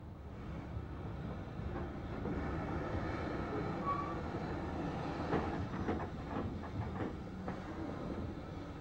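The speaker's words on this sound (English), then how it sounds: "The branch train moves out of the branch platform to clear the road for the through train." Branch train pulling out of the branch platform in 1962 British railway footage, heading along the line toward Seaton: a soft, fairly distant rumble of rolling stock with faint rhythmic wheel clicks building partway through.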